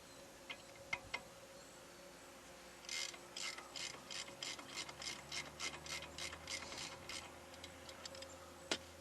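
Ratchet wrench clicking in a rapid run of steady ticks while loosening the top brake caliper bolt on a 1996 Dodge Ram 1500, close and fairly quiet, with a few isolated metallic taps before and after and no talk.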